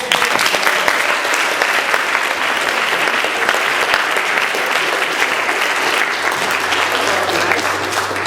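Sustained, steady audience applause fills a hall at a 2016 Asbury event, welcoming entertainer Taylor Mason home; dense, even clapping from a large crowd runs throughout at a loud, constant level.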